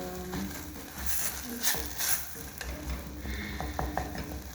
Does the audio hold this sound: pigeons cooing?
no